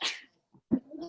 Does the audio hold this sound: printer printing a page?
no